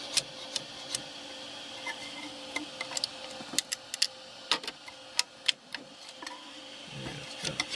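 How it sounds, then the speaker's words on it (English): A hand scraper pries a 3D print off a printer bed, making irregular sharp clicks and small snapping ticks, close and fairly quiet, scattered over a soft background hum with no speech. "So now I'm going to try to get it off the bed and then take down the pieces there."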